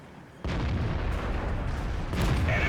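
A tank's main gun fires in World of Tanks, the FV4202 in a ridge battle: a sudden loud boom that holds as a broad rumbling blast, then a second heavy report near the end, with no talk over it.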